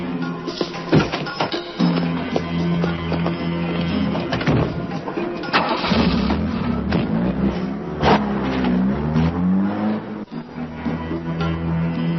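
A car engine turns over and runs in a film scene, with a steady low rumble and rising revs that stay loud and close throughout.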